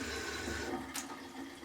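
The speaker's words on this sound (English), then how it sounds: "running water in the kitchen." Water runs steadily from a newly plumbed kitchen tap in a cottage, a continuous close hiss and splash with no talk.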